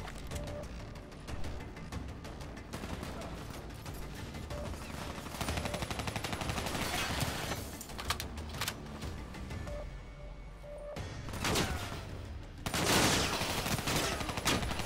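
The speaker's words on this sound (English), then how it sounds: "Why the hell are you shooting me for?" Sustained rapid gunfire from Call of Duty: Black Ops III, with continuous automatic bursts and louder volleys swelling near the end, dense and steady throughout.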